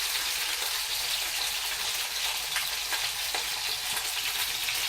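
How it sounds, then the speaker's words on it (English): Pompano fish frying in a pan with a few drops of sesame oil over reduced heat, giving a steady, dense sizzle and crackle that runs unbroken throughout, close and fairly loud, with no voices. "We're going to reduce the heat to make sure that it's going to be fried."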